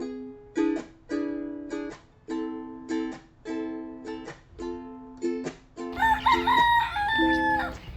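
Chickens cluck in short repeated bursts, then a rooster lets out a loud, drawn-out crow near the end, with more clucking around it.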